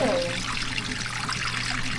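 Dirty water drains from a portable washing machine into a sink, a continuous rushing trickle that stays close and steady from start to finish.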